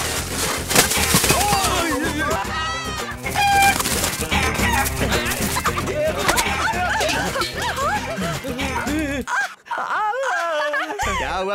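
Chicken clucking and squawking in a chase scene from a Hindi-dubbed action film, busy and continuous amid a loud music score and shouting voices, with a brief drop near the end.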